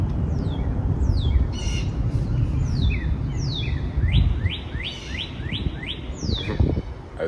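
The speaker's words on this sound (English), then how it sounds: "As you hear the birds singing." Birds call and chirp by a lake and small river, a mix of repeated sweeping whistles and squawks over a soft outdoor rumble, fairly close and continuous, with no voices.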